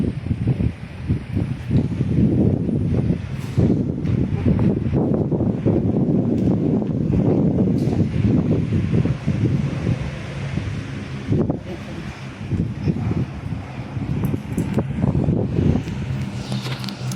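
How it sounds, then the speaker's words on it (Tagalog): Steady wind buffets the microphone outdoors, a loud, continuous rumbling roar with gusty surges and rustling over about seventeen seconds, with no voices. "Mahangin."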